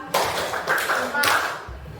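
Children clapping their hands in a rhythmic clap game, sharp claps in bursts among chanting voices.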